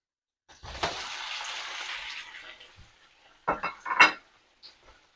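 Chicken pieces added to lightly browned onions in a hot pan for yakhni pulao, with a burst of sizzling and clattering metal as they go in, then a few sharp scrapes and clinks of stirring at close range.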